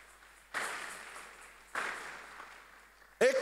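A church congregation applauding during a service, two swells of fairly faint, distant clapping that rise and fade, followed by a sudden louder burst at the end.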